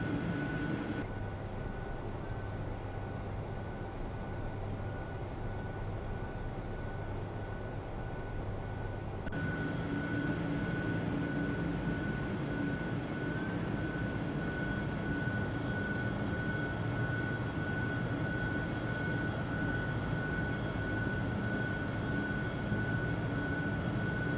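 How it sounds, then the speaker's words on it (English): Engine sound loop of a FlightFactor Airbus A350 in the X-Plane 10 flight simulator: a steady, continuous jet drone with a thin sustained whine running through it, loud and unbroken, with no talk. "I don't know about the engine sounds in this plane."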